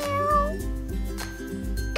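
A voice imitates a cat, giving a few sustained meows in a playful setting, clear and close over a steady background of soft music.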